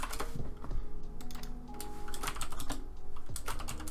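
Rapid typing on a computer keyboard to name a layer in Paint.NET, close and clear clicking keystrokes in bursts with short pauses, and no voices.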